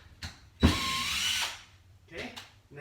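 Power drill driving a screw through pegboard into a wall, a short quick whir, then a longer loud straining burst, followed by another brief whir near the end.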